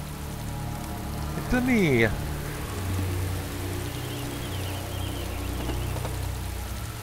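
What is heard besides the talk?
rain falling indoors through a leaky roof, DayZ Origins video game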